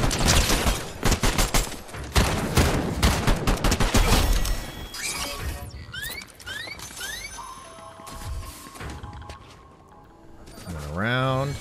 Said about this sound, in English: Gunfire over at the castle, at the mansion, rather.